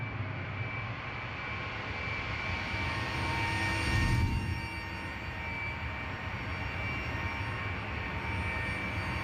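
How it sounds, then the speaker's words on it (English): In Microsoft Flight Simulator, an Airbus A320 jet engine roars as a steady whine and rush, swelling briefly midway before settling back to an even drone, with no one talking. "You can hear the jet engine going."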